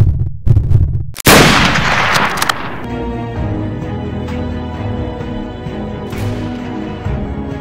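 A loud, booming gunshot bursts out in a video game cutscene, preceded by a couple of short thuds and followed by a lingering rumble and a sustained tonal music bed, with no speech during it.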